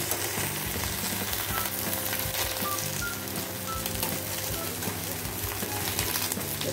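Hilsa fish wrapped in taro leaves frying in a pan, a dense continuous sizzle with soft scraping as two spatulas turn the parcels, close and steady under a faint background tone.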